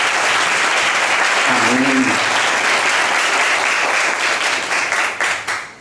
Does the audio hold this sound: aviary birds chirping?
no